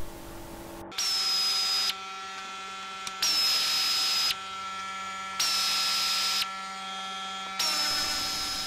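A power driver whirs in four even bursts, each about a second long with short pauses between, as Torx screws come out of a car bumper. A steady low hum runs underneath throughout.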